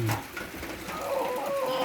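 A chicken clucks briefly up close at the start, followed by a soft drawn-out tone over quiet outdoor background.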